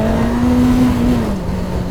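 Motorcycle engine held at a steady, loud drone through a wheelie, its pitch sagging slightly near the end as the throttle eases off, close and continuous with no talking.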